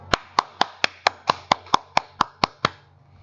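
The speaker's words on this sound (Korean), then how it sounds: "박수" About a dozen sharp, evenly spaced hand claps from a single person, close and clear over a faint low hum, during a lesson on making parts for the back of a desk clock.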